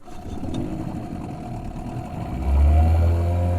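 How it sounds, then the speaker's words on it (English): A boat engine rumbles steadily, then grows louder and deeper as it revs up into a sustained roar near the end. "Engine ready, engine roaring."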